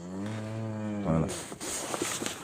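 A Swedish-breed cow in a pen lets out one long, loud moo that rises slightly in pitch, followed by shuffling and rustling noise in the pen.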